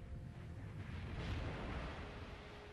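Torpedo explosions in the naval warfare game Steel Ocean, a rumbling, swelling blast that peaks midway and lingers, low and muffled at modest volume.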